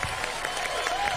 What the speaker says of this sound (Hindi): तालियां बजाएं आप लोग अपने लिए